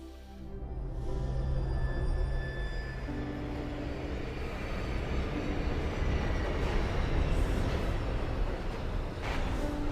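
Steady rumbling of a train running along the rails, heard from on board, continuous and fairly loud, with a faint rattle throughout and no talking.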